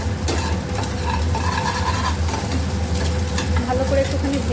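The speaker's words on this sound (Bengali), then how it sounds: "ভালো করে একটুখানি ভেজে নেব" An egg fries in oil in a pan for chili egg, a constant close sizzle with a low hum and faint stirring beneath.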